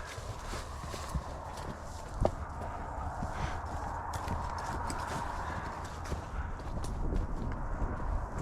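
A horse walks off with a rider through a gate, its hooves clip-clopping in a steady, fairly faint rhythm over a low outdoor background for several seconds.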